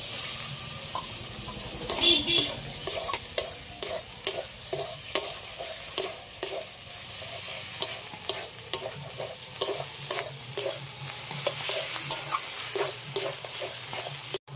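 Tomato and green chillies frying in a pan, a continuous sizzle under repeated rhythmic scraping and stirring strokes, close and fairly loud, no talking.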